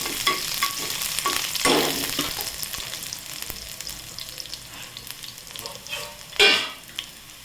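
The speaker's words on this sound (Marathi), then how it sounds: "लसूण घालायचा कांद्याला परतून घ्यायचं" Garlic and onion sautéing in hot oil for a masala, a sizzling hiss broken by irregular stirring scrapes, with a loud surge of sizzle toward the end and no talking.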